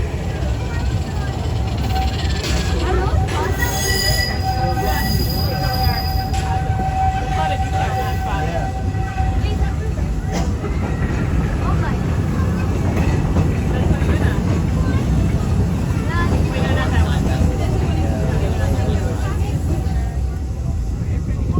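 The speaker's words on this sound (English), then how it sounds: "we decided to take a trip around the Magic Kingdom on the train" Magic Kingdom railroad train ride at Walt Disney World, Orlando, with a steady low rumble of the moving train and scattered clanks and a whistle-like tone, people chattering throughout over the running noise.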